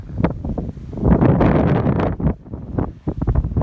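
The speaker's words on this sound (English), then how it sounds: "We got a real strong wind blowing here." Strong, bitterly cold winter wind blowing outdoors in Kansas in snowy weather, loud gusty buffeting against the microphone in irregular surges, close and continuous.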